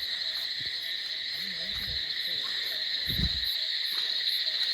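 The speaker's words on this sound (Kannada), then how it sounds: "ಎಲ್ಲ ಕೇಳ್ಬೋದು, ಕೀಟಗಳ ಸೌಂಡೆಲ್ಲ," Steady high-pitched insect chirring fills the night air over a paddy field, joined by a few faint low frog croaks in the background.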